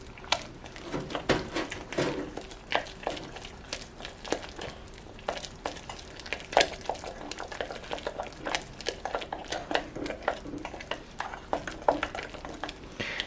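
Sugar cookie batter with a second egg added is stirred in a bowl, irregular wet slapping and clinking utensil strokes repeating unevenly throughout at moderate volume.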